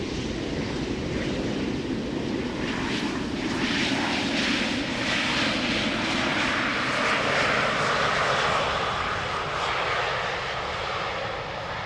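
An airliner lands at Amsterdam Schiphol Airport in humid weather, jet engines roaring loudly and steadily with a broad whooshing rush that swells and holds, heard from nearby without talk.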